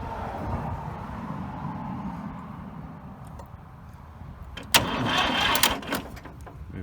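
A tractor engine is turned over to bleed air from its hydraulics. There is a steady low mechanical churning, then a sharp louder burst of cranking near the end, and it settles back to the churn.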